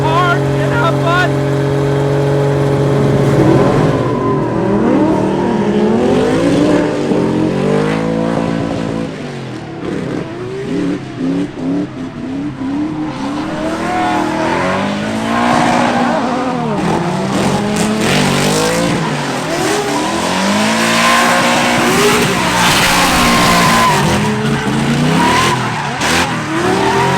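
A Nissan S15 drift car at a Klutch Kickers competition revs hard and shifts through repeated engine sweeps, with tire squeal and skidding throughout, loud and close, with some talk underneath.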